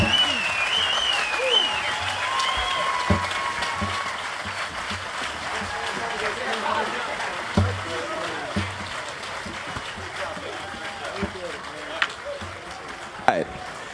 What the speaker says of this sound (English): Let's get a thunderous round of applause.